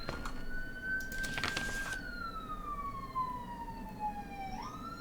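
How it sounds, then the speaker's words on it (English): A wailing siren from a PSX-era horror video game sweeps up then slowly glides down in pitch, steady and fairly close, with electronic-sounding tones and a brief burst of noise early on. "Sirens are wonderful."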